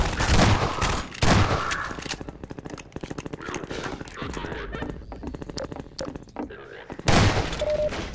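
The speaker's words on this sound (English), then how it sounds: "I know I'm wasting my ammo to break those boxes, but I don't care." Rapid gunfire from Half-Life 2 smashes wooden boxes, a dense run of sharp repeated shots between louder bursts at the start and end, close and fairly loud.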